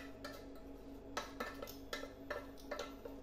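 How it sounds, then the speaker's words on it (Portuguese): A metal utensil scrapes and clinks against a pan while mixing leftover rice, in irregular strokes, a few sharp taps among softer stirring sounds, close and quiet. "Agora eu pego essa sobra de arroz de ontem e misturo aqui."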